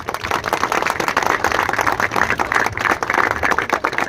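A large audience claps loudly and steadily at a 26 January Republic Day school function in India, a dense continuous roar of hands with no talking over it.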